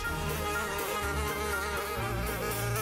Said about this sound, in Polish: To mucha.